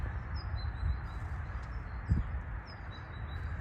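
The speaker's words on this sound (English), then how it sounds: "look at the little goldfinches there" Goldfinches and chaffinches around garden bird feeders give faint, scattered high chirps and twitters over steady outdoor background noise, with one brief low thump partway through.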